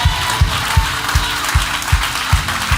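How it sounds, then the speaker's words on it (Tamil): A church congregation applauds steadily, a loud sustained wash of many hands clapping with a rhythmic beat of pulses, and no voices heard. "பார்க்குற மாதிரி கைதட்டுங்க."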